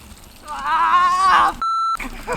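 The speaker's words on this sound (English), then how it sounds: "So don't worry, we'll just beep that out." A short, loud pure-tone censor beep cuts over a man's speech, which is briefly heard before the beep and resumes right after it.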